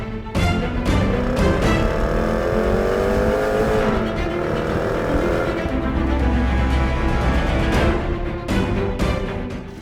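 A 2015 Range Rover Sport Autobiography with a 510 hp engine revs hard, the engine note climbing and falling in a loud, close roar with sharp bursts and crackles toward the end.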